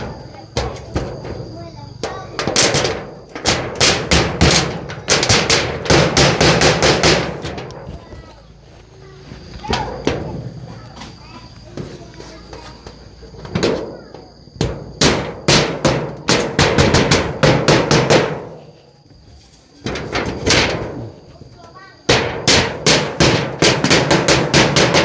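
Someone drives nails into a kitchen floor under construction with a hammer, making bursts of sharp, rapid, loud blows close by, split by short pauses. People talk between and over the strikes.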